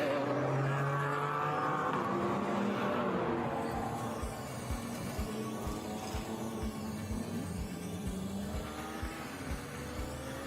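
Porsche race cars of the Porsche Sprint Challenge Benelux roll together on a rolling start at Zandvoort, a dense, steady engine drone with rhythmic low pulses and gear-change swells, fairly near and continuous with no voices.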